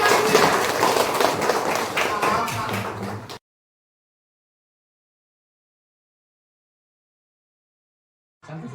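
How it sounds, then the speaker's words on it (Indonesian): Applause for everyone at a school teachers' activity: a few seconds of dense, steady clapping with some voices, then a long silence and a short burst of sound at the end. "Tepuk tangan untuk semua, hebat."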